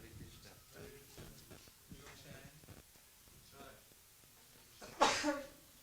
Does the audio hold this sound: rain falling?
no